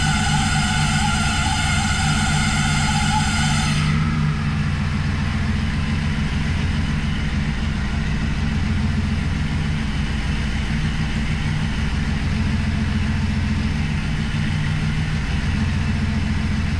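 A car engine idles steadily with a deep, even low rumble after an attempt to give it throttle, while smoke comes from the coolant; a higher whine fades out early and no one speaks.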